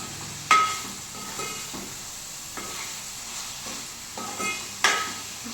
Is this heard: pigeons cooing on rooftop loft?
no